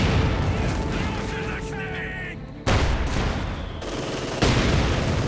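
Mortar rounds and Stu-3 rockets fire in a strategy video game, with dense bursts of gunfire and booming impacts that cut in abruptly and shift in loudness over a steady battle din.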